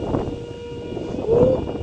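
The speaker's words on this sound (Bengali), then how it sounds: "যাচ্ছে ট্রেন। হ্যাঁ হ্যাঁ, ঠিক ঠিক, ট্রেন যাচ্ছে।" Train passing near a rural spot, a low continuous rumble with a brief tonal horn-like note near the end, over a short span.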